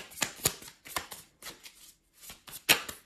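A deck of tarot cards shuffled by hand: a series of short riffling, flicking bursts in an uneven rhythm, close and fairly quiet, with no talking.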